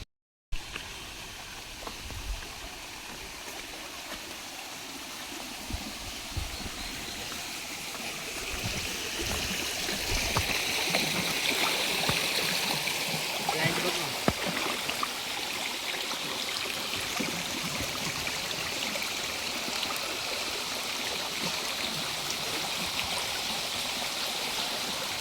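A monsoon-swollen river rushing near a dam overflow, a continuous broad roar that builds louder partway through and holds steady, with no talk.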